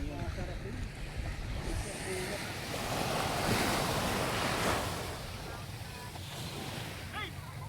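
Ocean surf washes onto a resort beach with steady wind buffeting the microphone, a broad continuous roar that swells in the middle, while people talk faintly nearby.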